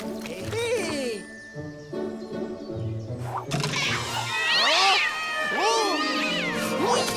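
A cartoon kitten meows several times in quick high, bending cries, with a higher, fainter cat joining in, set against animated background music.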